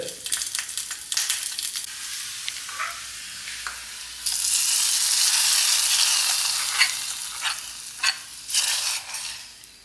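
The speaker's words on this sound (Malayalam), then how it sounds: "ഇനി നമുക്ക് വെളിച്ചെണ്ണയിൽ ചെറിയ ഉള്ളി അത് വഴറ്റിയിട്ടാണ് വേണ്ടത്" Small onions sautéing in coconut oil for a Kerala fish curry give a steady close sizzle that swells into a loud continuous hiss midway, with scraping stir bursts throughout and no talking.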